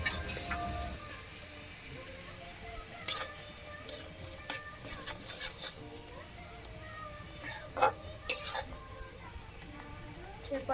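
A utensil stirs sugar and ground nuts in a pan while making a sweet, giving scattered light scrapes and clinks over a steady background hiss, close and fairly quiet.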